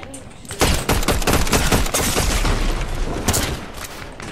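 Heavy, rapid gunfire in a video game crackles in dense bursts with booming impacts, loud and close, continuing for several seconds.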